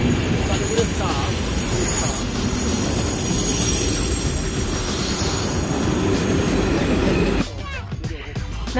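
A train pulls in at a station platform, a loud steady rumble of rolling cars with high wheel squeal that cuts off near the end as it stops, while people talk.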